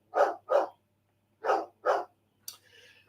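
A dog barks four times in two quick pairs, fairly close and loud, followed by a softer yelp and whine.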